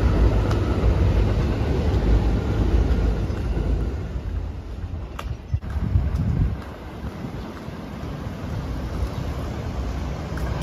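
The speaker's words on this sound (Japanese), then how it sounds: "タイミングよく近鉄電車が走り抜けていきます。" A Kintetsu electric train runs past beside a river in a Showa-era residential neighborhood, its broad rushing rumble loud at first and then easing away, mixed with wind noise on the microphone.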